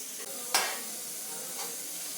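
Grated coconut roasts in a hot pan, sizzling steadily, with a couple of scraping stirs cutting through the frying hiss.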